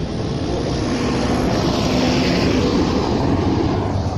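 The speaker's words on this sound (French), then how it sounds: "laisse passer le tracteur, ce sera plus facile et moins bruyant" A tractor passes on a rural road, its engine a steady, loud, broadband drone with low rumble that holds fairly even throughout, with no one talking.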